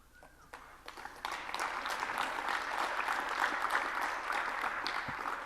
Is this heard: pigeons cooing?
no